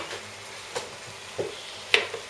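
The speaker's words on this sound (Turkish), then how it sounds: "Ve karıştıralım." Wild cive greens with salt are stirred in a frying pan: a soft, quiet sizzle runs throughout, broken by three or four distinct scraping clicks of the utensil against the pan.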